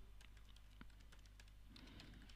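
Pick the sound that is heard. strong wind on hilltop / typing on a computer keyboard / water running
typing on a computer keyboard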